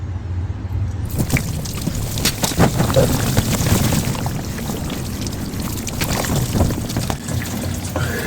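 Engine coolant pours and splatters steadily out of a car engine bay during serpentine belt work, a continuous close splashing rush that persists throughout.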